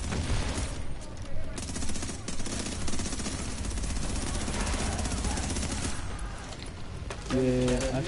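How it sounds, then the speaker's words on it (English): Sniper and automatic gunfire in the video game Tom Clancy's The Division during an Incursion mission, dense and continuous shooting layered with game noise and effects. "I'm getting sniped."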